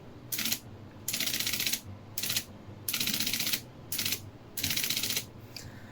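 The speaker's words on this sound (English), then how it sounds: "I'll press the character backspace a few times. So you should hear the cycling as it goes from 9 units, 3 units, 9 units, 3 units" An IBM Selectric Composer typesetting machine's character backspace mechanism cycles repeatedly, giving six bursts of rapid mechanical whirring and ratcheting that alternate between short and longer cycles, close and clear against a quiet background.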